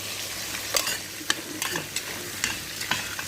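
Rice with fish, black lemon and tomato being stirred in a hot pot, a soft continuous sizzle broken by regular spoon scrapes about every half second, close but fairly quiet.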